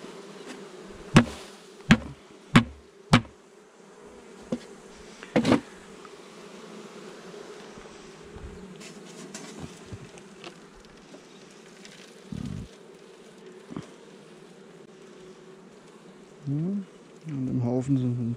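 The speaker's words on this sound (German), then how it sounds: "An dem Haufen sind zu viele Bienen," Honey bees buzzing during a spring hive inspection in March, a steady low drone of many bees throughout, broken by sharp knocks and taps of hive equipment and a few louder handling bursts.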